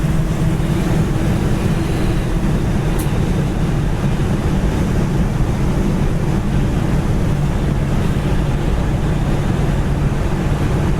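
A 1967 Oldsmobile Cutlass convertible cruising down the road, heard as a steady loud roar of engine, tires and rushing wind that stays constant throughout with no voices.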